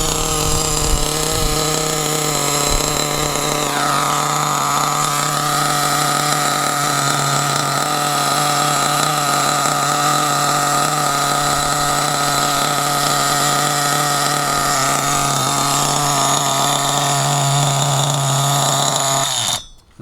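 A small, high-pitched nitro RC car engine, a Hobao ST, screams steadily and loudly without a break, a buzzing whine that cuts off abruptly at the end.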